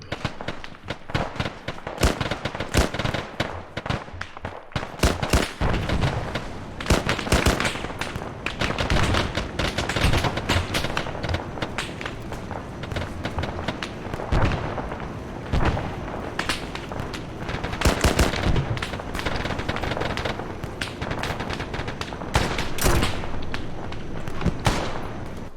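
Rapid, loud gunfire at target practice crackles in dense volleys and single sharp reports, nearly continuous with brief pauses, sounding close and sharp.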